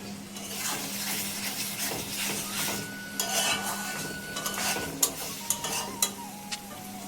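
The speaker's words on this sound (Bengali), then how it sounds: "যতক্ষণ মশলা থেকে তেল না ছাড়বে ততক্ষণ কষিয়ে যেতে হবে" Masala being stirred and sautéed in hot oil for a Sundarbans crab curry, a steady close sizzle with scraping spoon strokes and a few sharp clinks against the pan near the end.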